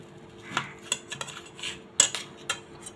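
A knife slicing a block of paneer into pieces on a board, giving a string of separate sharp clicks and taps close by, irregularly spaced with a few louder strikes, and no talk.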